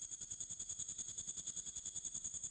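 Synth sound from the Murakami preset in Pigments, built for a dark FL Studio beat: a quiet, steady high shimmering tone over a softly pulsing low throb, with no voices.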